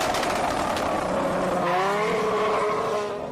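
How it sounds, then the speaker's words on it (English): Old-school JDM drag cars, including four-wheel-drive Nissan R32s, launch off the line at a street drag event, a loud sustained engine roar with rising pitch as a car pulls away, fading slightly at the end. "You can always count on an impressive launch."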